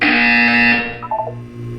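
A loud, harsh electronic buzzer sounds in the Portal 2 video game, a sustained tone that cuts off and leaves a brief softer electronic trail.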